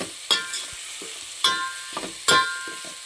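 Tomatoes and mint softening in a pan for paneer biryani, with a low sizzle broken by three sharp spatula scrapes and softer clinks as the mixture is stirred, close and alone.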